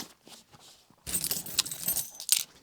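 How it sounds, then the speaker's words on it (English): A bunch of keys is handled, first with soft, scattered clinks, then a busier second and a half of bright metallic jangling and rattling, close by, with no talking. "Where am I going to put my keys?"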